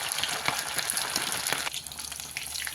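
Chicken 65 pieces fry in hot oil, a dense continuous sizzle scattered with sharp pops and crackles, close and loud, with no talk.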